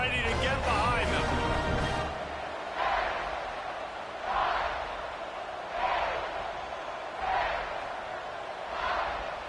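Stadium crowd in the College Football 26 video game before kickoff, a dense roar at first that settles into a steady murmur with periodic swells of cheering, with game commentary talk over it.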